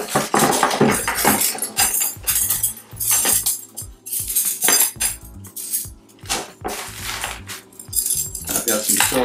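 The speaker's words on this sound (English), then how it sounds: "I've got some silverware, long spoons, got a little collapsible bowl." Metal silverware, long spoons, a collapsible bowl and other camping cooking gear clinking and rattling in a bag, a busy run of close, loud jangles and clatters with brief pauses.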